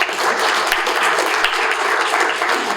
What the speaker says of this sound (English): Everyone, if we could give a round of applause for Tiffany.